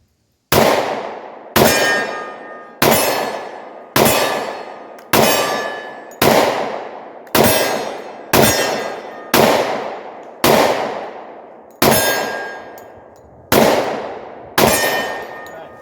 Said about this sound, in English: I'm gonna shoot this left-handed, one-handed, and we're gonna see how I can do one-handed with a 10 millimeter in my left hand